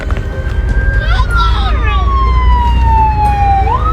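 A loud wailing police patrol car siren sweeps up and down close by, sounding over a constant low rumble of road traffic.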